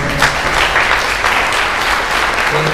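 A steady wash of audience applause at an accordion music event, dense and sustained throughout, with many hands clapping at once and no break in the sound.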